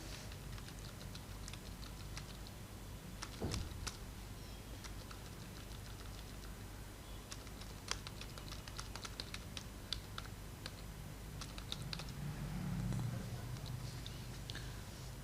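Computer keyboard typing while entering data into an Excel spreadsheet inserted in a Word document: continuous close clicking keystrokes, irregular and fairly even, over a constant background hiss, with no voice.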